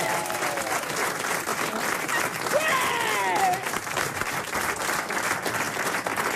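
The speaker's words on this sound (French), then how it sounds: "Les gens, ils applaudissent quand t'en réponds une." Studio audience at a French radio comedy quiz show bursts into sustained, steady applause for a correct answer, dense clapping filling the whole stretch with a few voices rising through it.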